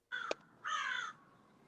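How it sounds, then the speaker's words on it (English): A crow caws twice outdoors: a short harsh call, then a longer drawn-out caw, fairly close against a quiet background. "somebody has a crow in the background"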